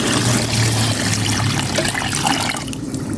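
Water pours into a pot for mussel broth, a loud, close, steady gush that thins toward the end.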